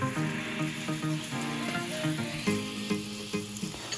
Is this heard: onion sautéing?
yes